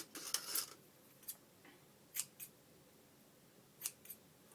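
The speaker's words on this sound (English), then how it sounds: "I'm going to just cut a little snip of this out" Scissors snip through a piece of cheesecloth for a pink junk journal craft, making several crisp, brief cuts in irregular bursts, close and fairly quiet with no talking.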